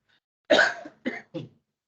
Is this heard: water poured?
no